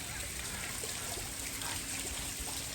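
Fountain water trickling and splashing steadily in Ghent, Belgium, a constant close watery hiss with no pauses.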